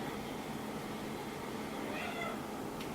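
A pet cat meows indoors, a faint, brief cry barely rising over steady background hiss near the end.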